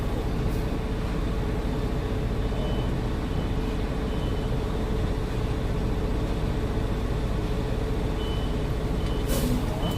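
A concrete mixer truck backs up, its reversing beeps sounding steadily over the constant rumble of the idling diesel engine, moderately loud and close.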